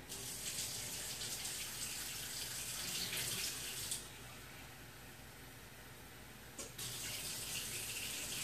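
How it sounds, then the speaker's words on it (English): About three quarters of a cup of hot water is poured while preparing pork butt barbecue. It makes a steady close rushing splash that drops briefly near the middle and then surges back, alone without talk. "I'm going to put 3/4 cup of hot water in"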